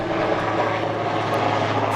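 Steady engine drone of a Sheriff's Department helicopter overhead at a fire station shooting scene in Agua Dulce, a constant low hum with rotor noise holding level throughout, no voices.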